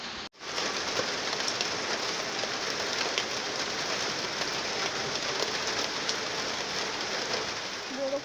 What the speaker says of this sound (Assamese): বৰষুণ পৰি আছে।